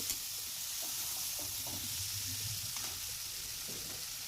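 Small fried potatoes being stirred into softened tomato in a frying pan, a steady sizzle with soft scraping and stirring strokes, close and continuous.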